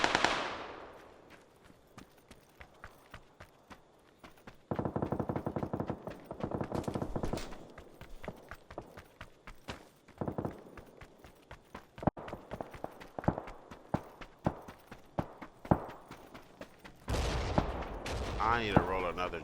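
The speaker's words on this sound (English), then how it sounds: "There's shots to the left of us." Gunfire in a battle royale video game: rapid bursts and scattered single shots crackle throughout, some distant and others closer, with dense volleys in the middle and near the end.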